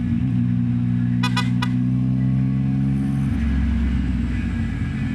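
A Yamaha MT-09 motorcycle with a full exhaust system rumbles close by in a low, steady idle drone. A few quick clicks come partway through, then the engine tone drops and roughens.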